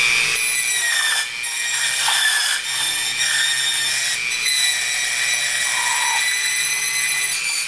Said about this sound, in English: I'm going to use my trusty Dremel tool to drill down about 1/4 inch